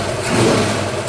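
A rebuilt Ford 302 V8 engine, freshly tuned and warmed through a heat cycle, revs up and eases back down in one short, loud, throaty swell heard close by, with no voices.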